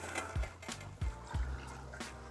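Homebrewed saison beer poured from a PET bottle, soft liquid trickling and glugging with a few low bubbling pulses, close and quiet.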